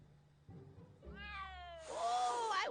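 A cat meows in a Back to the Future video game, a single drawn-out, rising call that grows louder and harsher toward its end, heard clearly over a quiet background.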